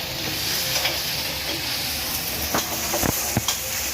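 Catfish stir-fried with chili curry paste, sizzling steadily with several sharp scraping stirs of a utensil against the pan toward the end, close and fairly loud, with no talking.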